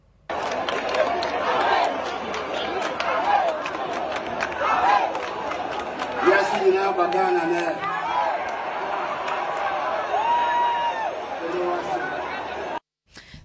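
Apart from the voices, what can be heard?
crowd booing the president during his speech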